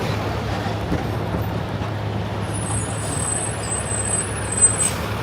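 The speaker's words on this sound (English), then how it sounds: "The Baldor truck." A Baldor delivery truck with air brakes on a New York City street during a morning walk to the Upper West Side, heard as a steady low engine rumble amid continuous traffic noise, with a brief brake hiss near the end.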